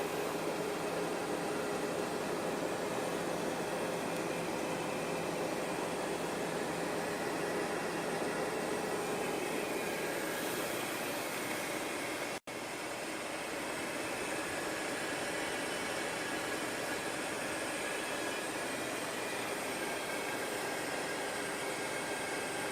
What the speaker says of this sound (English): It is a constant, abnormal hiss